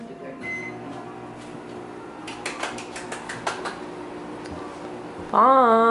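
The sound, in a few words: microwave oven heating tortillas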